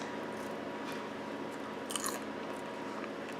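Crunchy popcorn, lightly buttered and salted and popped in a Chef'n Poptop popper, is chewed close to the mic with soft, faint, steady crunching and a slightly sharper bite partway through.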